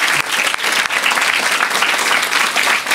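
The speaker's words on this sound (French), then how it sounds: "vous applaudissez à tout, quoi, en fait" A TV studio audience applauds loudly and steadily, with dense, continuous clapping throughout.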